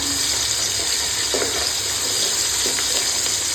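Whole cumin, dried chillies and bay leaves sizzle in hot oil, a loud steady close-up frying hiss with a couple of faint stirring knocks, no voices.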